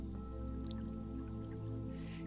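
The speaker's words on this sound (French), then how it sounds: "vous entendez un murmure cristallin, comme une rivière chantant une mélodie douce et apaisante." Faint trickling and dripping water of a murmuring stream, soft and close, over a low steady hum.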